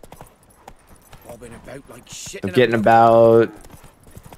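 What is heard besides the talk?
horse hooves while riding a horse in a video game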